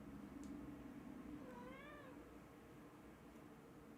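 A pet cat gives a single rising-and-falling meow as she wakes up, soft and close, over a steady low background hum with no one talking.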